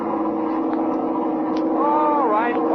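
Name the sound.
airplane engine revving up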